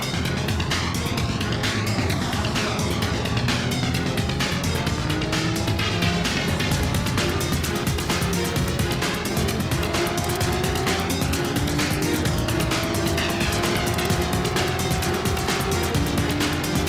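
Loud, constant engine roar from several racing cars in a racing video game, faster cars overtaking, with pitches rising and falling as they pass one another; no talking.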